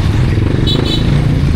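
Motorcycles packed into a crowded street at Divisoria, Manila, a steady dense engine rumble and clatter of traffic close by with a brief higher whine partway through, no voices.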